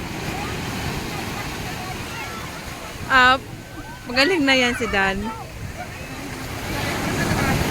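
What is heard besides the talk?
ocean waves at a beach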